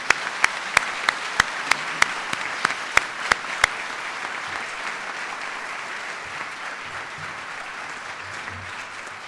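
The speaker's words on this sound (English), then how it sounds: "Let's give them all a big round of applause." A large audience claps steadily at a university event announcing Emporia State's new president. A run of sharp, regular clicks sits on top at first, then dense, even clapping continues alone.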